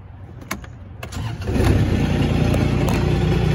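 A Kubota RTV 900 utility vehicle engine cranks briefly, then catches and settles into a loud, steady idle close by.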